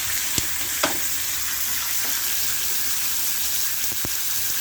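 A T-bone steak sizzles steadily in butter in a pan, a dense close hiss with a few sharp pops and clicks.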